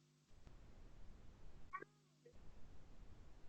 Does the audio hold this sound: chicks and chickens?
no